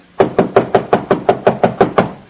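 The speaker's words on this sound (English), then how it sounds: "Why didn't you answer my knock?" Nine or ten firm, evenly spaced knocks on a door, played as a radio drama sound effect, land close and loud in one steady run with no talking.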